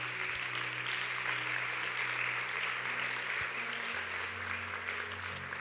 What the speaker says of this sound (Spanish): ¿Por qué no le damos un aplauso al Rey?